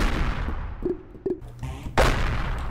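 In the video game Juice World, a cannon-like weapon fires a few sharp booming blasts one after another, loud and close, the last one the heaviest, with no voices over them.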